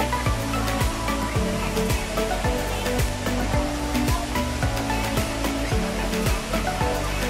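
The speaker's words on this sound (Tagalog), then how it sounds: "Ito na yung Hinulugang. Ito na yung waterfall." The Hinulugang Taktak waterfall in Antipolo gives off a constant, full rush of falling water. The steady roar has no break and carries a faint, rhythmic tonal layer through it.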